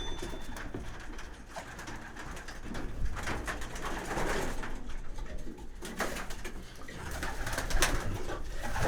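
Young pigeons coo repeatedly inside the young-bird section of a loft, soft throaty calls overlapping against a low background murmur of the birds moving about.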